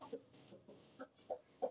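A broody hen clucks softly in short, low, repeated bursts at an uneven rhythm, close by and fairly quiet, with no talking.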